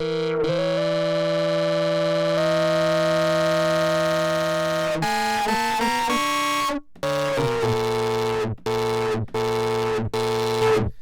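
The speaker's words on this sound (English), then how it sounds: "there's a bit of a crosstalk on the panel there with the distortion incorrectly modifying the note of an oscillator" A buzzy, distorted vintage toy synthesizer tone holds a steady pitch, then shifts into choppy stepped notes that cut in and out, the pitch wobbling oddly as panel crosstalk lets the distortion modify the oscillator note.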